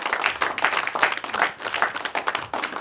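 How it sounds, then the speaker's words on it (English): Audience applause at a stand-up comedy show, a few seconds of steady clapping from a sizeable crowd heard close and full, with no talking over it. "if you could give them a round of applause for me"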